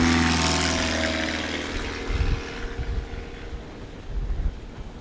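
A STOL competition airplane at the Pony Express event in St. Joseph, Missouri takes off, its propeller engine loud and droning close by and then fading steadily as it climbs away, with wind rumble and no talk.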